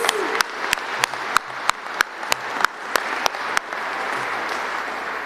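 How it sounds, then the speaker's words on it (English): An indoor audience claps for newly inducted senior NCOs at a Vermont Air National Guard ceremony. Sharp claps ring out in an even rhythm over a steady wash of applause that holds to the end. "How about one more round of applause for the VTANG's newest senior NCOs?"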